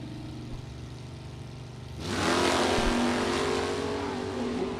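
A 1965 Dodge with a 440 V8 at a vintage drag race idles with a low rumbling burble, then launches into a loud roaring acceleration that holds steady, heard from nearby trackside.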